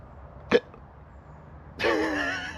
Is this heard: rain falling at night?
no